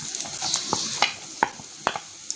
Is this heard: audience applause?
no